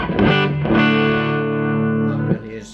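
An electric guitar plays through a Peavey Classic 2x12 hybrid combo amplifier, with its tubes running on the series sockets. Sustained, distorted, harmonically rich chords ring loud and close, with a fresh strum near the start and another just before the end.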